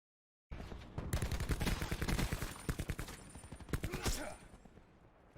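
Automatic weapon fire in the video game Call of Duty Black Ops 4, loud rapid bursts of gunfire with brief pauses between them, dense and close, with faint talk underneath.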